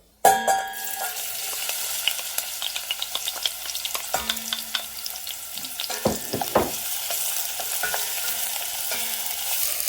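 Onion sautéing in hot oil, a loud, continuous crackling sizzle that starts suddenly and carries on throughout, with occasional utensil scrapes and clanks in a pot.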